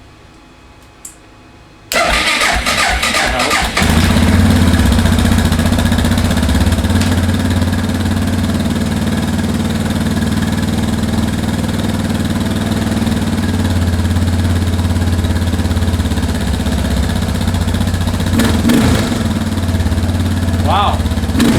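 A Suzuki DR650 motorcycle fitted with a ProCycle jet kit starts with the choke on and the clutch pulled in. After a moment of quiet, the engine catches and settles into a steady, loud, close idle.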